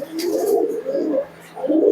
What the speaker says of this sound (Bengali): যে পায়রা দেখুন দেখুন